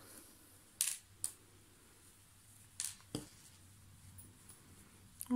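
Scissors snip through knitting yarn while finishing a baby's headband, giving a few short, quiet clicks spaced apart over a soft background hush, with no talking.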